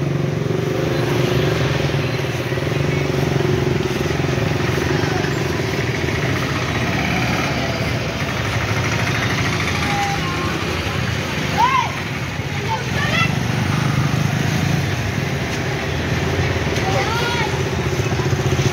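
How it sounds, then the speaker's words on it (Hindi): A motorcycle engine runs steadily nearby for a short ride, a continuous mid-pitched rumble with people talking over it. "इनको एक बार राइड करना है तो हमारे रोहित भाई इनको राइड पे लेके जाएंगे"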